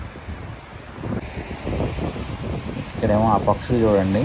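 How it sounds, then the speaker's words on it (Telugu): Strong gusting wind at St Kilda beach in Melbourne roars steadily against the microphone with surf beneath it, while someone talks over it throughout. "విపరీతమైన గాలి ఉంది."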